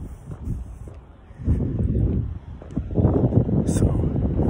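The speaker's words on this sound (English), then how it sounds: "Can you hear me? It's very windy." Strong wind buffets an outdoor microphone in a steady low roar that swells louder in gusts through the second half, with no other clear sound.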